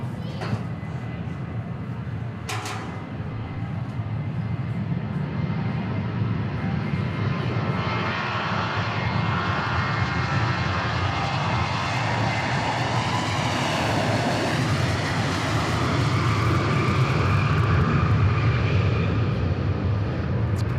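A Boeing 737-700 jet departing Dallas Love Field, a continuous broad engine roar that builds steadily and grows louder over about twenty seconds, with a brief thump early on.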